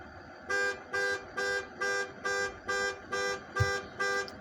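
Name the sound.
car alarm going off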